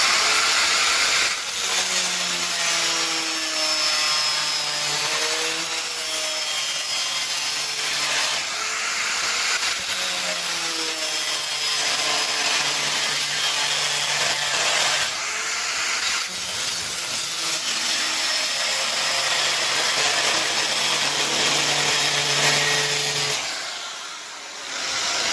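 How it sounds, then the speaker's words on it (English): An angle grinder cutting through steel shelf material, a loud sustained whining grind with wavering pitch that holds for over twenty seconds before tapering off near the end. "So I'm just going to do this with an angle grinder, I guess."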